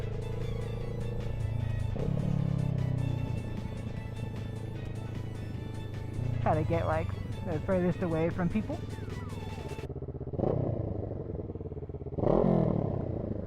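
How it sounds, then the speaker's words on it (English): A motorcycle with an aftermarket exhaust idles with a rumbling exhaust in a parking lot, then revs sharply a few times with popping bursts, while someone talks over the engine. "Let me give you guys some revs"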